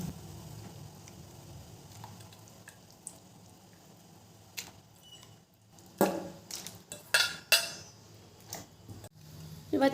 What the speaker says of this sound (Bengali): এবার চিকেনটাকে ভালো করে নেড়ে দেবো